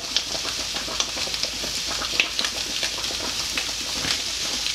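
Italian sausage frying with no oil in a non-stick skillet, a steady close sizzle with small crackles and pops throughout.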